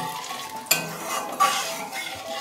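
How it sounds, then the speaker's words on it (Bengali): Chopped, washed cabbage and potatoes go into a hot pan with oil for a Bengali koi fish dish, giving a soft sizzle and a couple of sharp utensil clanks against the pan, close by. "আমি কেটে রাখা ধুয়ে রাখা বাঁধাকপি এবং আলুটা দিয়ে একটু"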